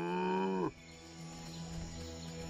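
A cartoon vampire cow lets out a loud, drawn-out moo whose pitch bends downward before cutting off abruptly, leaving a quiet humming background.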